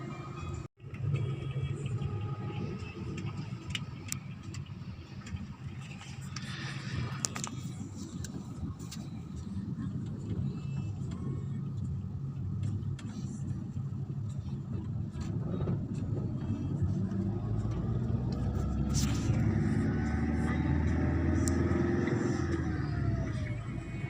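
Damri bus engine driving toward Bromo hums and drones steadily inside the cabin, the low rumble swelling slightly as it accelerates, with faint rattles and no clear talk.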